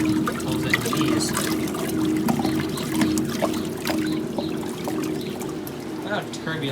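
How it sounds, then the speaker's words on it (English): Water sucked through the middle of a lint filter on a unit being unwinterized for the season, a steady turbulent rushing and trickling over a constant low hum, close and fairly loud. "This is how the lint filters on these work. It sucks water through the middle."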